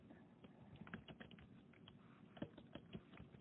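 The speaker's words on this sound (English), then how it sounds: "Are you typing this information out, trying to get answers?" Quiet, rapid typing on a computer keyboard, an uneven patter of soft key taps continuing throughout at a low level.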